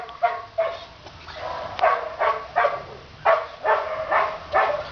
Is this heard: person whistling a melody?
no